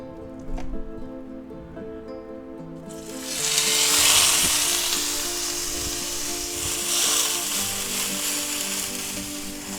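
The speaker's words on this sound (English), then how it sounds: "we're going to get a good sear on that side" A sirloin steak hits a hot pan a few seconds in, setting off a loud, steady sizzle that swells and then holds as a continuous hiss. It plays over a background of low humming and faint clatter, with no talk.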